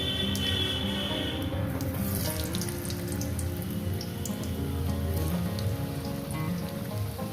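Potatoes fry in oil with a dense, even hiss like rain on a surface, steady and close for several seconds with no talk.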